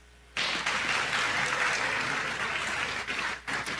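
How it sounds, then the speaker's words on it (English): Sustained applause from a large crowd at a Delaware State University convocation, steady and loud for several seconds with a brief dip near the end. "a big round of applause"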